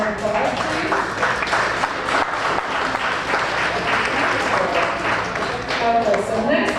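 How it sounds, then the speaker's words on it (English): Sustained round of applause at an awards luncheon of the National Council of Negro Women in Montclair, NJ, with many hands clapping loudly and continuously while voices murmur and talk underneath. "Will you all give them another round of applause, please?"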